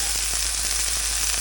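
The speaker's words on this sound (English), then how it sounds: "I like that little crunch on there when I'm pan frying mine." A frozen Members Mark Angus beef burger sizzles in a frying pan, a steady close hiss of fat and crackle running continuously without any talk.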